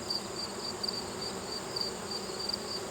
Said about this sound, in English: So there are a lot of bees in here.